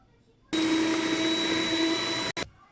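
An electric mixer whisks eggs and sugar for madeleines, whirring loudly at a steady high pitch for about two seconds, then cutting off abruptly with a brief restart.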